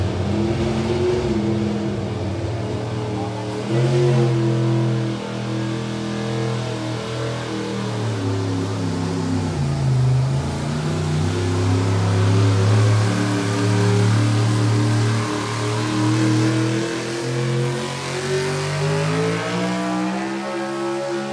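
A pulling truck with a brand new engine and driveline roars at a New York tractor pull, a sustained heavy engine drone rising and falling as it revs over about twenty seconds.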